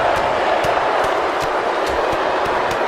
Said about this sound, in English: Crowd is fired up, man, for The Undertaker and Kane here.